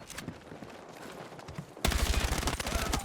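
Battlefield 6 gunfire opens suddenly after a quieter stretch of game ambience, a loud rapid run of close shots continuing to the end.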